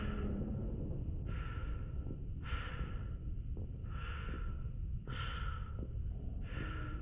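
Loud, steady in-and-out breathing close to the microphone, about six slow rhythmic breaths over a continuous background hum, during Mass Effect 2 gameplay with no talking.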